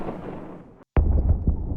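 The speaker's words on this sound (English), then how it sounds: "let's go over to Epidemic Sound and look for some explosion sounds" An explosion sound effect from a stock sound library: rumbling noise cuts to silence, then a sharp, loud boom with a deep rumbling tail and smaller follow-up bursts.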